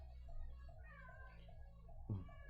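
A cat meows several times at close range in a quiet room, with short, repeated, faint cries that have clear tonal harmonics.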